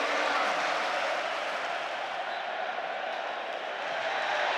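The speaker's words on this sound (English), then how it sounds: "the Amex crowd wakes up from that slumber" Home football crowd at the Amex stadium in Brighton roaring during a Premier League match against Bournemouth, a dense, sustained wash of cheering and applause that stays loud and even throughout, with no clear talk over it.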